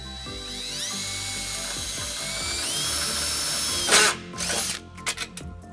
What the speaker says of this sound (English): we'll tighten it up using a 3/8 socket